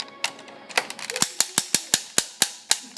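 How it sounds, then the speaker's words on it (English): The plastic arm of a Transformers Generations Titan Class Metroplex toy is pulled out, giving a rapid series of sharp, close ratcheting clicks with no talking. "And another feature is you can take out his arm."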